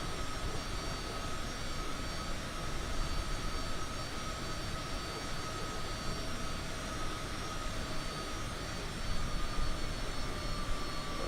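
Airliner engines throttling back in Microsoft Flight Simulator, a steady loud jet roar with a constant whine that stays even for the whole stretch, no talk.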